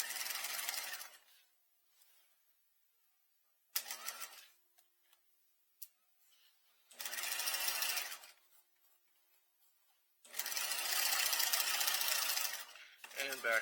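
A sewing machine stitches a seam around a corner with a 1/2 inch seam allowance, running in four bursts of fast mechanical whirring separated by pauses with small clicks as the needle and presser foot are repositioned, close up.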